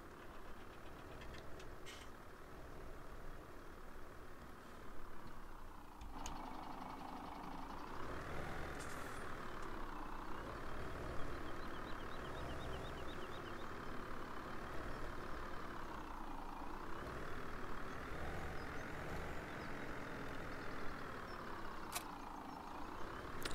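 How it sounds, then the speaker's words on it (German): A truck engine in the farming game Landwirtschafts-Simulator 17 runs as a steady, fairly quiet drone whose pitch rises and falls in slow waves as it revs, with a few faint clicks on top. "Und zum Glück hat der LKW hier genug Kraft."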